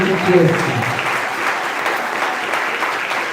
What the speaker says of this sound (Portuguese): Então bate palmas para Jesus aí